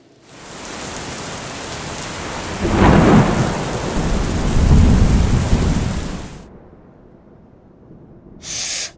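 Heavy rain hisses steadily while thunder rumbles loudly in the middle, swelling and fading before the downpour cuts off abruptly, then a brief burst of rain returns at the end.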